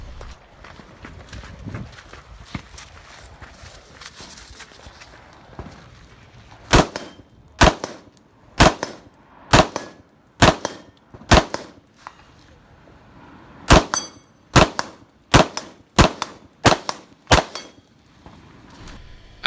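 Shots fired at steel targets on a 3-gun match stage, some at 500 yards: around a dozen sharp, loud reports in uneven bursts after a quiet opening, each ringing briefly.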